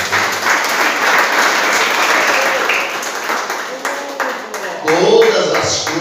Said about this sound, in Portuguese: Dá uma salva de palmas para você